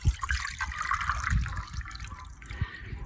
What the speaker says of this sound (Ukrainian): Виливаю з термоса